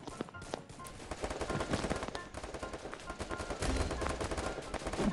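Rapid bursts of automatic gunfire from the video game Free Fire, dense and continuous with crackling shots overlapping throughout.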